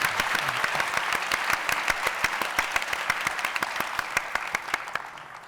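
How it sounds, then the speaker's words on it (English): A debate audience applauds with dense, continuous clapping that holds steady and then begins to taper off. "Please give them a round of applause."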